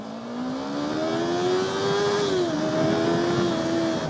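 A Yamaha R3 motorcycle's 321cc parallel-twin engine, rated at 42 bhp, revs up close by, its tone rising steadily, dipping briefly, then holding high and continuous, with no talk.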